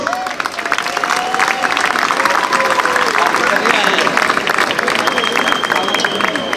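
A crowd applauds at the Torres Vedras carnival in Portugal, a dense continuous roar of clapping with voices over it and a sustained tone running through.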